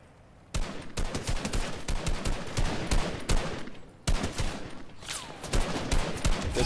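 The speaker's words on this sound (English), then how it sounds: "Another guy sniping from over here. I wonder if he can shoot through that tree." Sniper and other gunfire in a Fortnite match, rapid loud volleys of shots crowding together in dense bursts with a brief lull midway, no talking.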